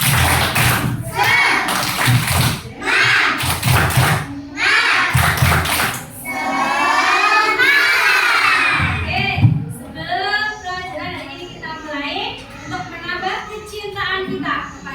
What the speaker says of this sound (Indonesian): Coba semuanya tepuk semangat